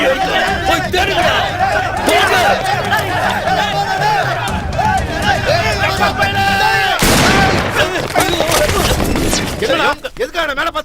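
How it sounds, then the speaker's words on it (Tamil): Gunfire in a Tamil-dubbed action movie scene: a sharp, loud burst of shots rings out midway, surrounded by urgent voices and background commotion before and after. "எதுக்காக மேல பார்த்து சுட்ட?"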